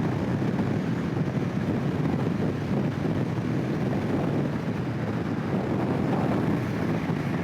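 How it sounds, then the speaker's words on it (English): Steady, heavy wind buffeting roars without pause, low and loud, like air rushing past a rider on a 2022 Aprilia Tuono V4 motorcycle heading into a headwind in Oklahoma. "We're heading into the wind today, and I do believe we got another wonderful windy day in Oklahoma"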